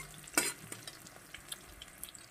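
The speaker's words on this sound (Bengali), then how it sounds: "সামান্য একটু রসুনটা ভাজা হোক" Chopped garlic fries quietly in a pan, giving a faint, soft sizzle with one sharper scrape of a utensil near the start and a few light clicks afterward.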